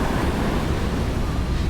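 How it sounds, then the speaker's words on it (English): Ocean surf breaking on a beach, a steady broadband wash of rolling waves with wind rumble on the microphone, continuous and loud with no voices. "That's a breaker coming in right there."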